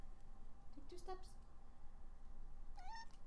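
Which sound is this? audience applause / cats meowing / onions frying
cats meowing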